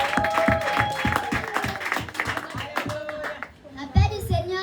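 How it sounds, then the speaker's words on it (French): Applause and cheering from a church congregation welcoming a girl, loud and continuous with scattered claps and voices, briefly dipping before a final swell. "Nous allons accueillir la sœur Sarah par vos acclamations"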